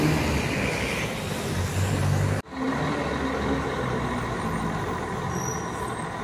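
Itapemirim and Suzantur buses being started and tested in a garage in Santo André: loud diesel engine rumble with a sharp air-brake release hiss cutting in midway, then continued idling.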